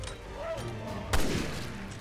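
A single loud bolt-action rifle shot cracks out mid-clip inside the video game Resident Evil Revelations 2, rising over a steady bed of game ambience and fading into a short reverberant tail.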